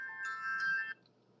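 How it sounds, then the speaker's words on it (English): A phone alarm ringtone for a meeting chimes as a short, quiet electronic melody lasting just under a second, then stops, leaving a faint room hum. "That was my alarm to tell me that I have a meeting."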